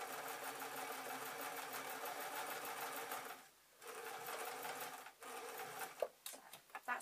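A sewing machine stitches a line across fabric, its rapid even needle clatter running steadily for several seconds, pausing briefly, then ending in a few short uneven bursts; quiet and close.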